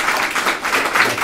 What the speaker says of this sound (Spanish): vamos a recibirle con un aplauso